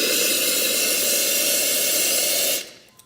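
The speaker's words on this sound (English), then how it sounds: "A lot of water coming out of there." Water rushing from the group head of an ECM Technika Rota espresso machine, a loud, steady, close hissing spray of about two and a half seconds that stops abruptly, followed by a faint click.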